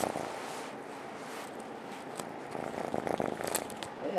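A cat purring close by, a soft continuous rumbling hum with faint rustles and small crackles on top, quiet and with no voices.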